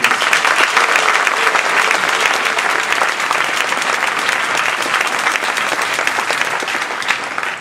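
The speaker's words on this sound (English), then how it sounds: "Everyone, a round of applause for Ken." A crowd at a Toastmasters speech evaluation contest applauds a contestant, the sustained, dense clapping staying loud and steady throughout.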